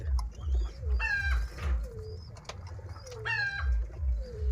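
Close, repeated low cooing from pigeons of a mixed breed, rolling in a steady pulse, while brief higher bird calls flicker above it.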